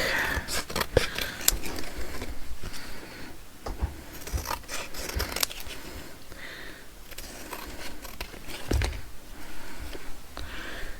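Scissors snipping off the back of junk journal paper material, a series of short crisp cuts and rustles at close range with no talk.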